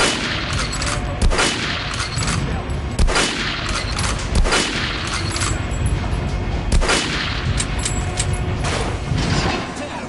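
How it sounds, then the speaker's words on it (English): Repeated gunshots fired at a target dummy on a shooting range in the video game Metro Last Light, coming in irregular clusters of sharp cracks over continuous background noise, with occasional faint voice. "Shoot the dummy in the head."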